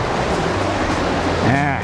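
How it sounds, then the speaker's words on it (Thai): Water rushes strongly over rocks at Than Mayom waterfall on Koh Chang, a loud, close, continuous roar with a brief voice heard over it near the end. "น้ำไหลแรงด้วยนะครับ ต้องระวังระวังล้มนะครับ"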